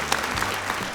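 Clapping from a studio audience at the Got Talent Armenia auditions forms a dense, loud wash of applause with no break across the whole moment.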